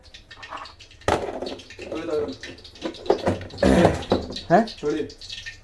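Running water for washing in a home kitchen while making egg rice, a steady wash of water flowing beneath fairly loud, lively conversation throughout.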